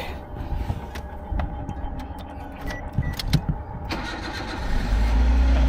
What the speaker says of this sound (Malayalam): രാവിലെ തണുപ്പൊക്കെ ആയതുകൊണ്ടേ ഇത്തിരി നേരം ഇവിടെ വണ്ടി സ്റ്റാർട്ട് ചെയ്തിടും